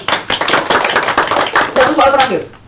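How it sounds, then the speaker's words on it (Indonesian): A small classroom group claps during a microteaching lesson, with loud, close, uneven individual claps and a voice speaking briefly toward the end. "Tepuk tangan untuk kita semua."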